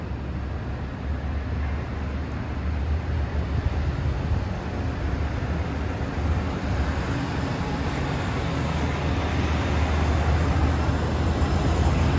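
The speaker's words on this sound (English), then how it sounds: "here goes train number 7, finishing up his long journey" Commuter train at Mineola station on triple track, rolling steadily past as a continuous loud low rumble with wheel and rail noise, close and sustained throughout.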